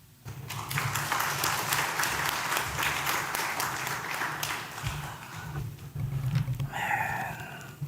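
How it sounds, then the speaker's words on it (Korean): A congregation at a church lay retreat claps together after a sermon, a steady roomful of applause lasting several seconds before fading, followed by a quieter tail with a faint tone. "우리 목사님 감사도 박수 올려드리고"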